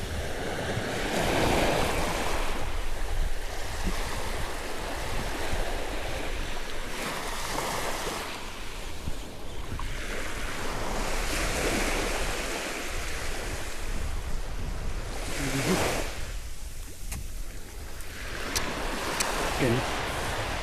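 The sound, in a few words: sea waves breaking near rocks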